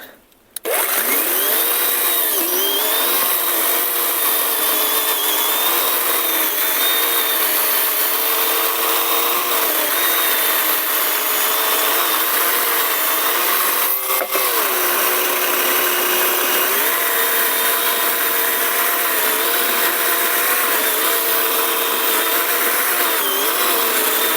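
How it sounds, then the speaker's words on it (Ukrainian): A Grosser GCS 120SF cordless saw cutting through maple wood, a loud continuous motor whine that wavers in pitch as the blade bites, dipping briefly partway through before carrying on. "Пробуємо пиляти грьосером отакий клен."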